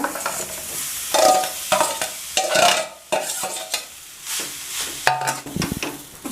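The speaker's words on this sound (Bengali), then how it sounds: "আমি যাচ্ছি সুজিটাকে ভালো করে ভেজে নেব একটু ঘিয়ে" Semolina roasting in ghee in a hot kadai for a coconut filling: a spatula scrapes and stirs in repeated strokes over a steady frying sizzle, close and fairly loud.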